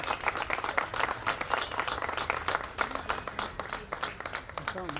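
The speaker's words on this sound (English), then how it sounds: "Let's give him a round of applause as well." An audience at a Paterson city hall event claps in a dense, sustained round of applause, close and fairly loud, with a voice speaking over part of it.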